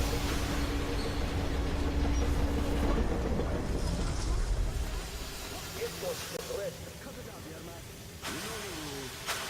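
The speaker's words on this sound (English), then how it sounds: "Oh no, that's a train." A train rumbles past in Metro Exodus with a steady mechanical roar that fades partway through, leaving quieter ambience and brief electronic chirps.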